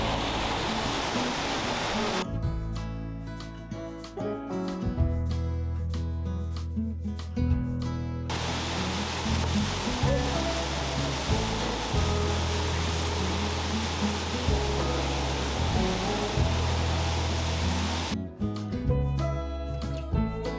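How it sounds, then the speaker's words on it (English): Storseterfossen waterfall in Norway pours down in a continuous, dense roar of rushing water, loud and steady throughout with no voices. "sound of the waterfall is deafening for sure. A lot of water rushing down."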